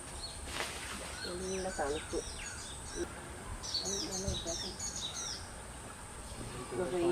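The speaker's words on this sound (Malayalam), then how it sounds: "നിശബ്ദത ഭേദിച്ചെത്തുന്ന കിളികളുടെ മനോഹര ശബ്ദമാണ് എവിടെയും" Birds chirp and call in short, bright phrases on the quiet backwaters of Munroe Island in Kollam, fairly soft against a faint hiss of background ambience.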